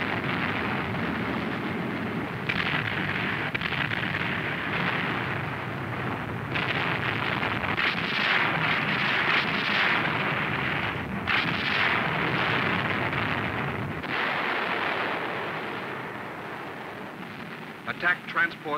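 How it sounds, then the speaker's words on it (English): Explosions as underwater demolition teams blow up beach obstacles in a World War II Pacific naval documentary: a sustained roar of blasts and rumbling booms that swells and fades, with faint crackling and no clear talking. "Underwater demolition teams blow up beach obstacles."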